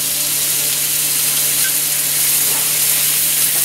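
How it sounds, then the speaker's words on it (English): About three cups of sliced mushrooms cooking in melted butter in a pan for chicken marsala, giving a loud steady close sizzle with a bright hiss and occasional faint pops. "I'm going to let these cook, simmer here in this butter."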